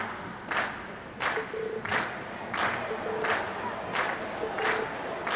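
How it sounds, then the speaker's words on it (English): Crowd cheering and applause at the end of a stage performance in the video game Trails of Cold Steel, coming in repeated bursts of roughly every 0.7 seconds, loud and with no talking. "Ladies and gents, you've been a wonderful crowd. And we've heard your cheers loud and clear."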